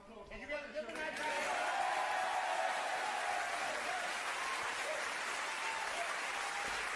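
A studio audience on a 1993 TV light entertainment show bursts into sustained applause, loud and steady for several seconds, with a voice heard briefly at the start.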